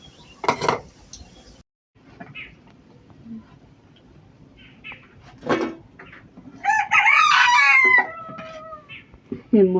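A rooster shut on a rooftop, wanting to get out, clucks in short bursts, then lets out one loud, near crow. Faint clatter and quiet background noise run between the calls.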